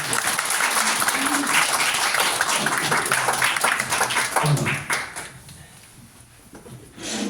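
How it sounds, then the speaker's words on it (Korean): Warm applause from a seminar audience welcoming a professor to a business lecture in Seoul, a dense rattle of many hands that holds steady, then thins and fades out near the end. "모실 때 뜨거운 박수 좀 부탁드립니다"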